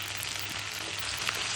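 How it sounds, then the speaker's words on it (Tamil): Chopped onion, tomato, green chili and curry leaves sauté in a hot pan, giving a steady, close hiss of sizzling oil with no talk over it. "கட் பண்ணி வச்சுருக்க பொடி வெங்காயத்தை போட்டு நல்லா வதக்கிக்கலாம்"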